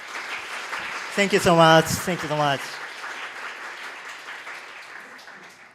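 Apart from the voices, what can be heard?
conference audience applause for speaker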